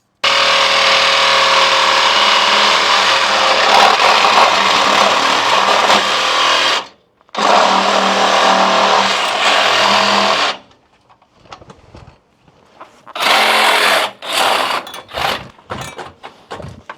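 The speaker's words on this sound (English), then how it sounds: "then we're gonna go ahead and cut the cat right here." Power saw cutting through the catalytic converter pipe on a Mercedes C63S during a catless downpipe install, a loud continuous whining buzz broken by a short pause, then a few brief bursts and clanks.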